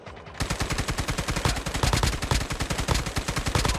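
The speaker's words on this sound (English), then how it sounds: "I thought I just heard a sniper." Rapid, evenly spaced gunfire from COD Mobile, a long burst of loud, close shots repeating in a steady rhythm for several seconds after a brief quiet start.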